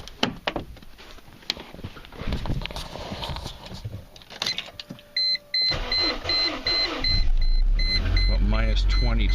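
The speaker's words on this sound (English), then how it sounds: "we're going to start it and see what happens here" A Mercedes W202 with a newly fitted mass airflow sensor cranks and starts in freezing winter cold, the engine settling into a steady, loud idle for the final seconds while someone talks over it.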